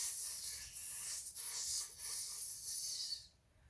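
A voice imitates a snake's hiss, a breathy sustained hissing in several long bursts separated by brief pauses, close and fairly soft, fading at the end.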